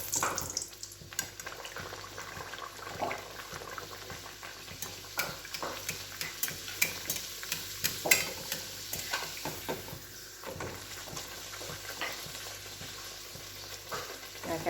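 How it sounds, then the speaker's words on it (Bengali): Parathas deep-frying in hot oil in a home kitchen, a steady crackling sizzle running throughout with occasional louder pops and clinks of a utensil, close and moderately loud, no talking. "একে একে পরোটাগুলো সব আমি ছেঁকে নেবো এবার।"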